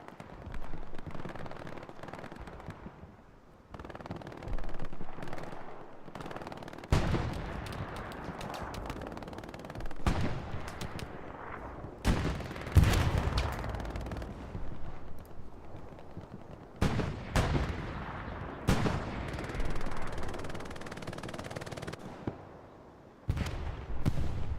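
MG42 machine gun fire from a fence-post position in Hell Let Loose at Utah Beach chapel, heard as repeated loud bursts and sharp cracks spread through the scene amid battlefield noise and distant gunfire.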